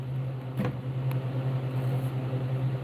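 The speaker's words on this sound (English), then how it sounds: "hair dryer, and I usually start out low to get it to start to dry" A handheld two-setting hair dryer running on low, blowing over wet airbrush paint on a realistic largemouth bass; a steady, close whir with a low hum holds unbroken throughout.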